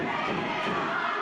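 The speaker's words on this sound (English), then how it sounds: "the crowd is chanting for Shay to take that mask off" A crowd at a pro wrestling event chants and shouts in a dense, continuous roar, heard briefly from within the audience.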